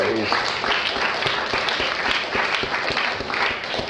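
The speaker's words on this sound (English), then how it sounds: "So give him a round of applause, too." Applause at a press conference on abortion reduction legislation, a loud, dense wash of clapping from the gathered audience that holds steady for a few seconds.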